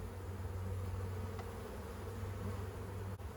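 Honey bees droning during a spring hive inspection, a dense steady buzz from many insects close by that holds unbroken for a few seconds with no voices.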